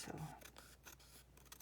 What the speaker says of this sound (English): I think I'll just cut it off.